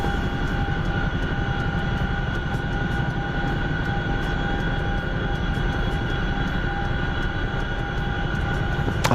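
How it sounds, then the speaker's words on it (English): Chinook helicopter in a flight video game, with a loud, steady rotor and engine drone humming continuously up close with a constant tonal whine and no talking. "I'm setting down the Chinook outside of the area for now."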